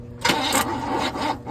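A 1968 Chevrolet Impala convertible engine cranks over with a steady, rough churning from about a quarter second on. It is close and fairly loud, with no talking.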